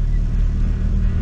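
A Peugeot car engine runs roughly on a hill run at a Peugeot festival, a loud, close, low uneven rumble that carries without a break for about a second.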